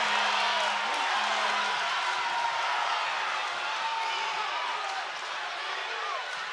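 The crowd at a boys high school basketball game roars after an alley-oop, a dense, sustained wall of cheering that holds steady and eases only slightly toward the end, with a commentator speaking over it.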